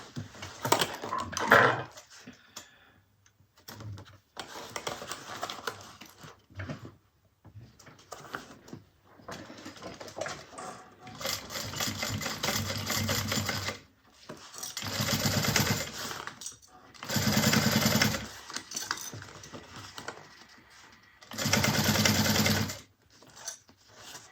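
A sewing machine stitches the Nola bag closed in several separate bursts of steady running, with quiet pauses and small handling sounds between them.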